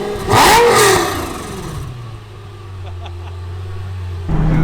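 A Lamborghini Gallardo with a gated manual transmission gives a loud, close rev that rises and falls, settles to a low idle rumble, then picks up again at the end.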